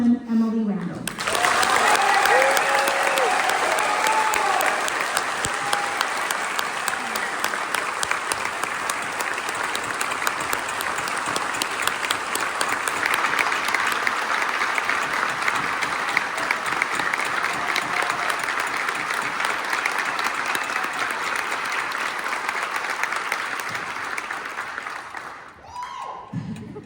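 Town hall audience in Bremerton, Washington applauding to welcome Congresswoman Emily Randall, a loud, sustained wash of clapping from a sizeable crowd that runs steadily for over twenty seconds before tapering off, with a voice briefly heard at the start and end.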